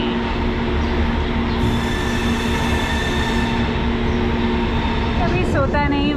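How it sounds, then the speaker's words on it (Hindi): Gitanjali Express passenger train departing from Mumbai, a steady rumble of rolling wheels and rail noise with brief squeals near the end, heard from on board with people talking over it. "देखिए ट्रेन चल चुकी है एग्जैक्ट 6 बजे।"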